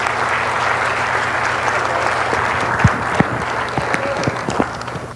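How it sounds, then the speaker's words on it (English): A tech demo night audience in Calgary applauds steadily, a dense wash of many hands clapping from a moderate distance, with a few sharper claps and faint voices poking through as it carries on. "how about a round of applause?"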